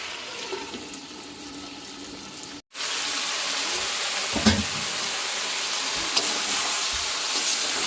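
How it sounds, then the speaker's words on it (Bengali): Pointed gourd and drumstick pieces fry with fish in a pan, giving a steady, close, broadband sizzle. The sizzle drops out briefly and resumes with occasional stirring clinks. "পটল আর সাজনাগুলো দিয়ে কষাবো পাঁচ মিনিট পাঁচ মিনিট কষিয়ে নেব এবং ঢেকে কষাব"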